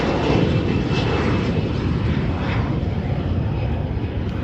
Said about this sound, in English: FedEx, the MD-11 right there, the MD-11 FedEx flight